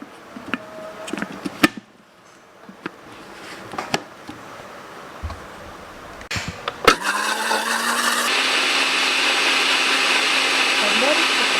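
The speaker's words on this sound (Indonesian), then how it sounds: "Oke, ini langsung kita blend." Blender whirring through a vegetarian sauce with olive oil, starting after some scattered clatter and knocks, then a steady loud motor whine that runs to the end.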